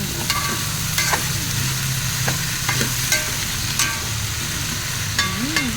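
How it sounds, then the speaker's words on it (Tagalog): Squash sautéing and being stirred in a pan, a steady sizzle under repeated light scraping and clinking of a utensil throughout, fairly close with no talk. "ginisa natin ang kalabasa"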